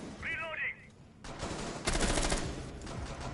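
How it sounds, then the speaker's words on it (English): Gunfire during a competitive Rainbow Six Siege match: a quick, dense burst of shots in the middle, amid game noise and a brief whistling tone at the start. "that is a shot off on Argon"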